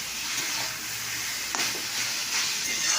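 Leafy greens (saag) sizzle and crackle steadily in a pan, with a faint stir or scrape now and then. The sound is close and fairly soft, and no one speaks.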